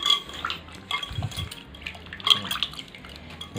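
Peeled cassava root is washed in water, with soft splashes, drips and occasional clinks of a metal vessel, close and intermittent, no talk.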